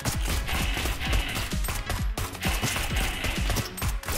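Rapid gunfire in Neon Abyss blasts enemies in a dense, punchy stream of shots, loud and close, running almost without a break.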